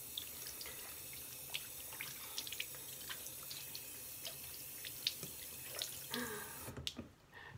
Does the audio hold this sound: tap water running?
yes